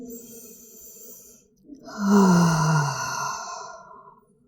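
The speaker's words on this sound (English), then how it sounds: "Take a deep breath in and exhale out through the mouth" A long, deep exhale out through the mouth during a yoga child's pose, a soft breathy sigh that swells, then slowly fades, close and alone without talk.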